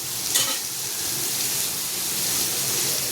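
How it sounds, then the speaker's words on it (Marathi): Dry coconut dropped into a pan of onion already frying, giving a steady broadband sizzle with stirring scrapes, a brief louder burst near the start, then even crackle throughout with no talking. "कांदा इथे फ्राय झाला आहे त्याच्यानंतर फ्राय करण्यासाठी खोबरं टाकतोय आपण त्याच्यामध्ये"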